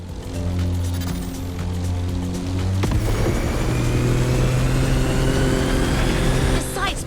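A drift car idles with a steady engine hum on a Hawaiian mountain road in The Crew Motorfest, then revs up partway through and keeps a rising, droning engine note. Some talk may sit faintly underneath.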